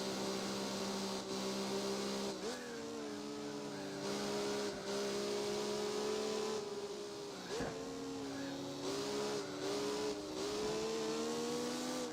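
Car engine in Gran Turismo 4 during a license test, a steady droning hum with pitch rising and dipping through gear changes and corners, loud and continuous with no talk.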